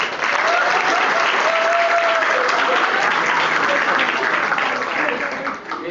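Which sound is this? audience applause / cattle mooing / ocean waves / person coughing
audience applause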